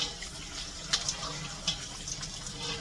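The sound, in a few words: washing green beans under running water in sink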